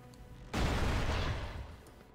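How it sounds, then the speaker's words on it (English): A loot explosion bursts in the action role-playing game Torchlight 2: a sudden loud boom with a rumbling, crackling tail that fades over a second and a half, with no talk. "there's that loot explosion"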